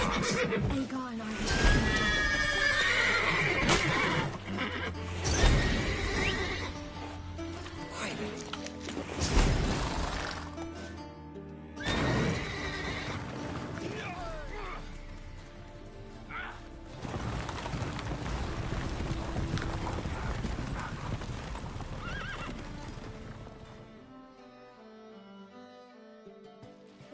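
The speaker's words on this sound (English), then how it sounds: "Gotta calm all the horses before they wake the guards." Horses in stables in the game The Witcher 3, giving repeated loud whinnies and snorts with hoof clatter and knocks, spread across nearly half a minute before fading into quiet.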